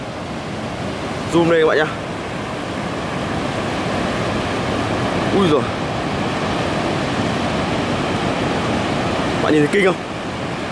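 Big sea waves roll and break steadily on the beach at Sầm Sơn, Thanh Hóa, a loud continuous roar of surf with wind, while someone talks excitedly over it.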